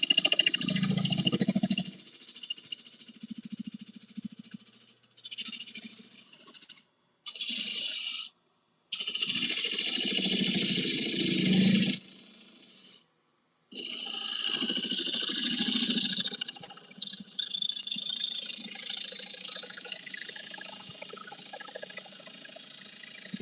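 A wood lathe spins a wood blank while a carbide tool cuts it, giving bursts of steady scraping and hissing broken by short pauses, close and fairly loud with no talking.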